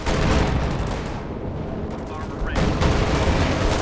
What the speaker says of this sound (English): And I see artillery going down.